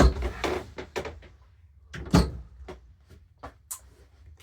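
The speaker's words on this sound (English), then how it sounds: "Special door. It's mechanized like this because you cannot have so high door, it will not open." Mechanized special door aboard a vintage Norwegian sailboat opening, a run of separate wooden knocks and clunks with short scraping movements, close by and uneven in rhythm, with brief speech in places.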